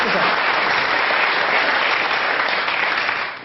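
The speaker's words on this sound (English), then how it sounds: "Round of applause for Joe" A television studio audience claps loudly and steadily for a few seconds, a thick continuous wash of applause that tapers slightly at the end.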